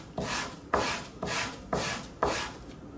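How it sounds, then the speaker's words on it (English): Wood is sanded by hand with 120 grit sandpaper while crafting a circular wooden xylophone, five even rasping strokes close up with short pauses between them, no talk. "start with 120 grit sandpaper, just like before"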